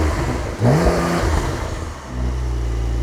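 Loud, close revving from a Brabus 720 tuned Porsche 911 Turbo S: a sharp throttle blip climbs and falls, then the engine settles into a steady, rumbling idle.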